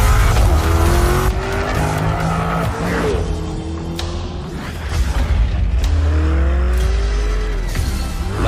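A Lamborghini Urus super sport utility vehicle drives hard, its engine roaring loud and close through rising and falling revs, with tire squeal and a dense, continuous wash of sound throughout.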